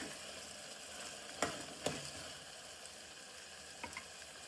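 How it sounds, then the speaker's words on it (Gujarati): Papdi beans fry quietly in oil with a soft, steady sizzle, broken by a few sharp clinks and scrapes of a spoon stirring the pan. "ચમચી વડે આપણે પહેલાં હલાવી દઈશું."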